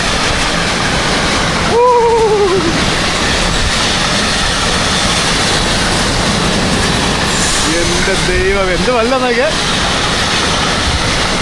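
A car-carrier freight train rolls through a large Polish railway station with a loud, continuous close rumble and rattle of wagons, while a man exclaims in amazement over it and a short whistling tone sounds.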